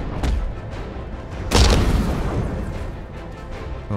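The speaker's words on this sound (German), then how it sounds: "Die Drohne ist explodiert." A drone explodes in the video game Batman Arkham Knight, a sudden booming blast that rises out of a low rumbling background and fades slowly, with a fainter thump near the start.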